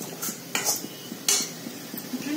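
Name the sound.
stirring vegetables in a thin steel or iron kadai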